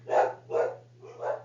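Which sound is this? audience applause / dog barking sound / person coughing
dog barking sound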